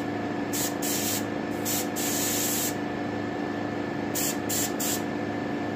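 A spray gun coats a taxidermy turkey head in heavy layers of Gill Red paint, hissing in several close, steady bursts of about a second each over a constant background hum.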